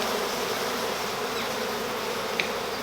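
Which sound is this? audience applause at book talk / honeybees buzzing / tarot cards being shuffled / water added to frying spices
honeybees buzzing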